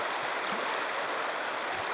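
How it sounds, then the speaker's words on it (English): Hunter Creek, a mountain stream in the Colorado wilderness, flows with a steady, even rushing hiss of water, constant and unbroken throughout with no voices. "Alright, I've reached the Hunter Creek."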